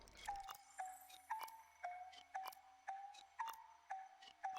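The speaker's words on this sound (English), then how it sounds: "we're gonna have to ring this little bell" A little bell rung repeatedly in the video game Seasons After Fall, each strike a clear bright ding with a short ringing tail, about nine evenly spaced chimes over a soft background hum.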